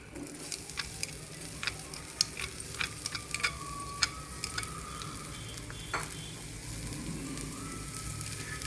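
Chopped onion frying in a few spoons of oil in a pan, a steady soft sizzle with occasional ticks and stirring clicks, close and fairly quiet, no voices.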